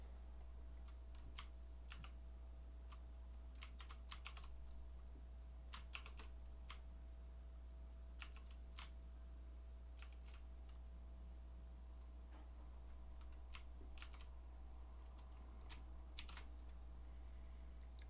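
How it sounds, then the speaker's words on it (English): A computer keyboard is typed on steadily in quiet, close-up clicks scattered across a long stretch, over a constant low electrical hum, with no one speaking. "it's just going to be me typing a bunch"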